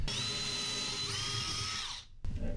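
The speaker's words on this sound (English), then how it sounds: "So I'm gonna use a 7/8 bit." A power drill spins a 7/8-inch bit through material during a toilet and bidet installation, a steady high whine close by for about two seconds before stopping abruptly, then starting again briefly.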